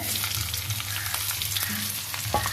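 Small shallots fry in a clay pot for a prawn dish, producing a dense, steady crackling sizzle up close, with a faint clink near the end.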